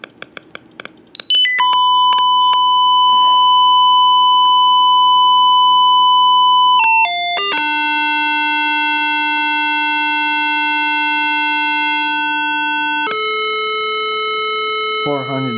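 A Rigol DG1011 function generator drives a speaker with pure sine tones. The steady, loud tones jump abruptly from pitch to pitch several times, then hold a long, even note before shifting again, with no other sound behind them.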